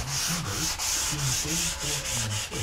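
Wood finish on a cherry Chippendale handkerchief table being hand sanded lightly with 600 grit sandpaper, a steady rhythmic back-and-forth scratchy rubbing with regular strokes, close and continuous.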